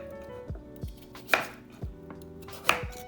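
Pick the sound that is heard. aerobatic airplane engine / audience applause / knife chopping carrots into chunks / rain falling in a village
knife chopping carrots into chunks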